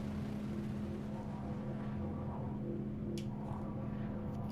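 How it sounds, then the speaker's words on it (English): A tractor beam sound effect from the space game Star Citizen, heard while hauling in a Hull C ship: a quiet, steady low droning hum with a faint rumble and a brief high chirp near the end. "Can you guys hear that tractor beam sound effect coming through the stream as well?"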